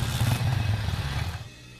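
A motorcycle pulls away with a low rumbling engine note that is strong at first, then fades out within about two seconds.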